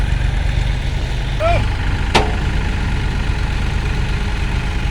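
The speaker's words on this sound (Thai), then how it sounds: "ถอยรถไถออกดีอีกนิดนึง" A heavy tractor engine idles steadily and low throughout as it reverses, with a brief sharp knock partway through and faint voices in the background.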